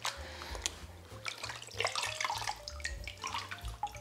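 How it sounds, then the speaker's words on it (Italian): Homemade pecorino cheese is dipped and rinsed in a basin of water, with close splashing, sloshing and dripping in short irregular bursts. "andiamo a sciacquare il pecorino nell'acqua, andiamo a togliere il sale residuo"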